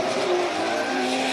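Drift car at full throttle during a Formula Drift Japan round, a loud continuous engine roar with squealing tires, close and steady throughout.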